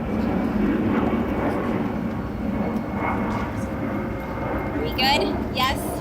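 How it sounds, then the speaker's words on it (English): An airplane passes overhead outdoors, a broad low engine rumble holding steady throughout, with people talking faintly beneath it. "I'll give the plane a moment to pass by."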